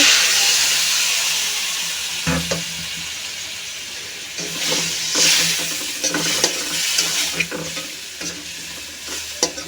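Frying bottle gourd and potatoes for a snakehead fish curry sizzle and hiss as water is added to the pan, a steady steamy crackle with repeated stirring clatters, close and without talk.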